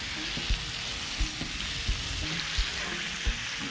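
Bacon and a pork chop fry in butter on a FIREBOX prototype hot box, a steady close sizzle with soft periodic thumps and stirring clicks, no talking.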